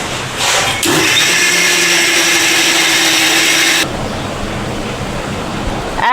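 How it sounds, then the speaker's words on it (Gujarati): Loud, close mixer grinder whirring as it crushes mango and milk for ice cream, a steady motor roar that starts, runs for about three seconds, then cuts to a lower fading hum. "હવે આપણે તેને મિક્સરમાં ક્રશ કરી લઈશું"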